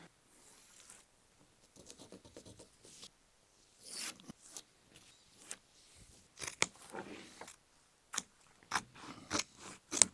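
Scissors slicing through heavy canvas for a Land Rover Defender top, a run of sharp, close snipping and crunching cuts in uneven bursts with short pauses, no talk.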